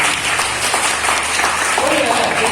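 Audience applause at a book launch celebrating poet Kim Seong-hui's first poetry collection, a steady dense wash of clapping throughout with faint voices mixed in.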